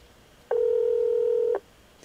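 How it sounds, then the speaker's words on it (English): A telephone ring-back tone on Call Waiting Deluxe sounds as a single steady, loud electronic tone lasting about a second, with quiet line hiss before and after. "And then it goes back to ring back. You can hear a different ring back here."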